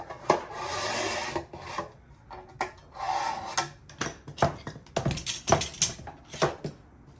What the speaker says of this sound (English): Stanley knife usually works the best. Just slide along.